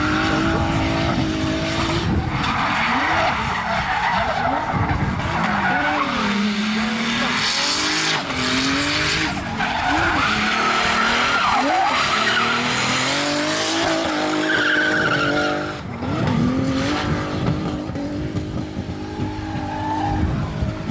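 Race cars in a Breitsladd competition in Hultsfred slide sideways, engines roaring loudly as tires squeal and skid in long wavering wails, the noise continuous and close with brief surges, while voices talk underneath.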